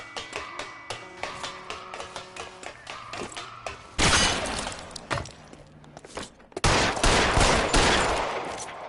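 Gunfire rings out in L.A. Noire during a rooftop chase, sharp shots in a rapid volley early on, then two dense, loud bursts of fusillade that fill the space.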